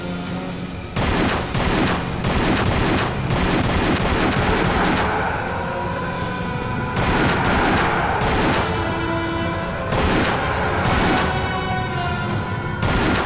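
Loud gunfire in the video game Tomb Raider: Angel of Darkness, with dense bursts of shots and booming blasts that come in waves and keep going throughout, with no voices.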